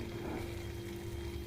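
Ghugni, boiled and mixed with chopped capsicum, salt and sugar, sautés in a pan with a steady, low, continuous sizzle and no voices.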